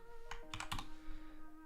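A handful of quick keystrokes tapped on a computer keyboard, close and fairly quiet, with a steady electronic hum underneath.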